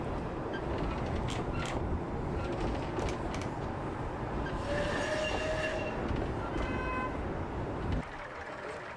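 A heritage railway train rumbles in with steady wheel noise, brief high squeals and a short horn-like tone, then the rolling sound drops as it slows.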